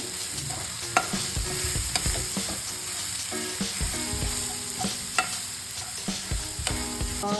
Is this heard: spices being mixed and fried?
yes